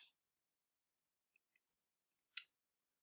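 A few faint, sharp mouse clicks on a Post Reply button in an online discussion forum, scattered across near-silence and capped by one louder click near the end.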